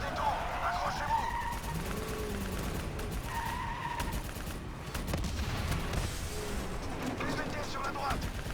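Gunfire and explosions rumble through a Call of Duty: Black Ops III combat mission, dense continuous battle noise with vehicle sounds, under frequent shouted voices in French.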